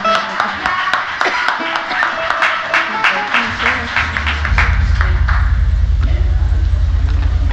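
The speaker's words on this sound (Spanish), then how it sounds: "Un aplauso a los bailarines" A live audience claps for dancers at a traditional carnival folk performance on the Maspalomas stage, a fast, even round of applause that fades after a few seconds as a low, sustained music tone swells in underneath.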